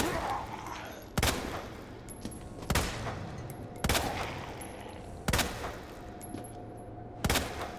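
Gunfire in the survival-horror video game Resident Evil 2: five loud, evenly spaced single gunshots about every second and a half, each with a sharp crack and a decaying tail over a dense, noisy game background.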